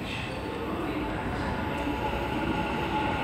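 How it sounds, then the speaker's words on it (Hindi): A Dubai metro train passes nearby with a steady rolling roar of wheels on rail and a faint high whine, continuous and moderately loud for the whole stretch. "ये भी ट्रेन आई है साइड,"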